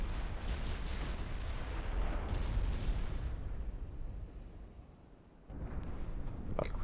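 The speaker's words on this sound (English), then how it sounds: "Let's have some 15-inch guns target the battleship as well." Fifteen-inch naval guns fire on a battleship in a naval warfare video game, filling the air with a dense, heavy rumble of overlapping booms. It fades down, then a fresh loud burst erupts near the end.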